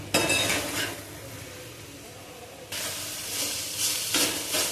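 Onion-free masala ingredients fry in a pan before eggs go in for egg bhurji, a steady close sizzle with scraping stirs and a louder burst of frying partway through, no voices.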